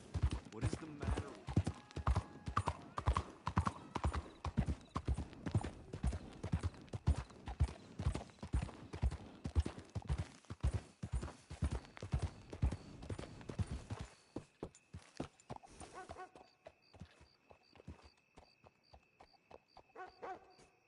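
Rhythmic clip-clop of horse hooves walking on a hard surface in the video game Red Dead Redemption 2, steady and fairly close, slowing and fading near the end.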